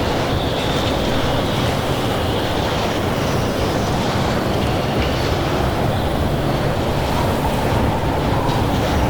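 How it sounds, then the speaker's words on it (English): Wind blowing in the video game Pacific Drive, a constant loud roaring rush with no breaks, full and close and with no speech. "Really windy."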